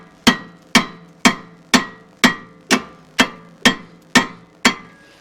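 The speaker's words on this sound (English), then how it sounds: "I'm going to give it a few taps with the hammer first." Ten evenly spaced metallic hammer taps on a front strut of a 2016 Ford Mustang, about half a second apart, each a sharp ringing clank that decays quickly.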